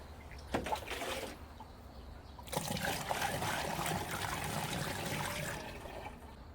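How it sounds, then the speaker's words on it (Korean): Water poured from a scoop with a hole cut in its bottom into the tank of an electric sprayer: a steady, close splashing trickle that starts abruptly, runs continuously for several seconds, then tapers off. "이렇게 물을 붓게 되면 분무기 바깥쪽으로 물이 튀는 일을 막을 수 있습니다."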